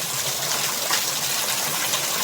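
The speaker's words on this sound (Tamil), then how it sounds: "இந்த வாட்ரு ஃபால்ஸோட தண்ணி ஃப்ளோ கம்மியாக இருக்குது" Water flowing steadily at the low-flow Sivanathapuram waterfall, a constant broadband rush and splash, close and even throughout with no voices.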